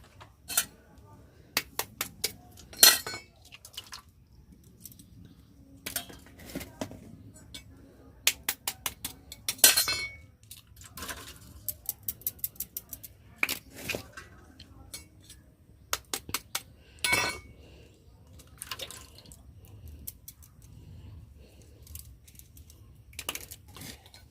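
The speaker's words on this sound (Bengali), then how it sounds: "দেখো এবারে ডিমটাকে ভালো করে ফেটিয়ে নিচ্ছি।" Eggs whisked in a bowl with a utensil during home cooking, four eggs beaten hard; sharp clinking taps come in quick irregular bursts, close and fairly loud, with a low background hum and occasional pauses.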